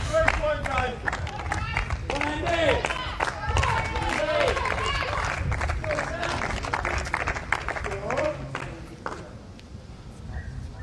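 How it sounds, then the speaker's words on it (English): A crowd at a tennis match, a mixed doubles game, claps in steady, dense applause that holds loud for most of the stretch before easing, with a commentator talking over it. "The crowd like it."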